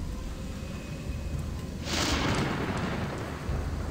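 A game thunderstorm in Gothic 2, with a continuous rumbling, rain-like wash and a louder thunderclap surge swelling about halfway through.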